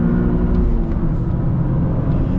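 A 2023 Toyota GR Corolla in rear-wheel drive mode accelerates, its engine giving a loud, steady close rumble that rises slightly and carries no talk.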